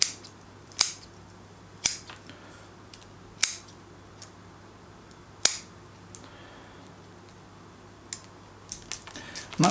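Scissors snipping through thick roots of a flowering bonsai from nursery stock during repotting, with several sharp, close cuts spaced a second or two apart and quieter clicks afterward.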